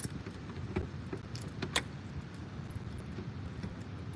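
A large bunch of keys jangles in sporadic metallic clinks over steady low rumble, with one sharper rattle partway through, close by while someone fumbles at a mall door.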